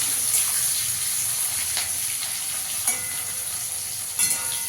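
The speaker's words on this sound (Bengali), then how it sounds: "পেঁয়াজটাকে একটু লাল করে ভেজে নিতে হবে।" Chopped onion fries in hot oil for a prawn dish, a continuous bright sizzle with occasional stirring scrapes and crackles, steady and close, with no voices.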